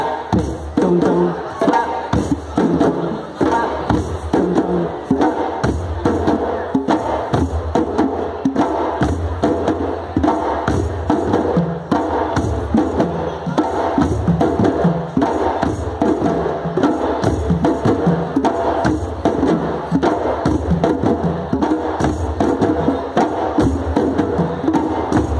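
A hand drum plays a repeating rhythm of deep bass strokes and sharper tone strokes, loud and close, in a steady pattern that runs throughout with no talk over it.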